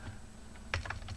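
Quick light keystrokes on a computer keyboard, a short cluster of clicks close by and fairly faint against a quiet background.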